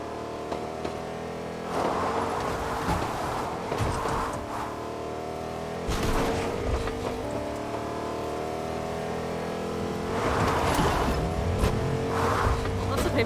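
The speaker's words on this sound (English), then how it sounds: "Lots of people driving around at the moment." Cars in the video game Fortnite drive around, engines revving and swelling in several passes with tire noise, mid-distance and moderately loud over a steady game background.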